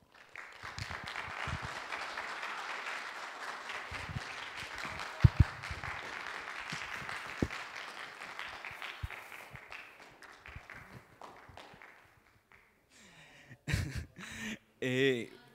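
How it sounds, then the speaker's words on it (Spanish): Applause from an audience at a public accountability hearing, a soft wash of clapping that holds for several seconds then fades out, followed by brief other sounds near the end. "Muchas gracias por los aplausos."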